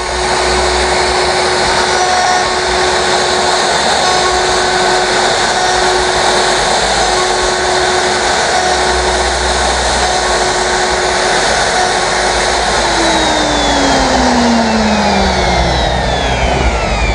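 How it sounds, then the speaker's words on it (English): A Festool router cutting a recess for a SOSS hinge gives a loud, steady high-pitched motor whine throughout, its pitch dropping near the end as it winds down. "Wait for the router to stop."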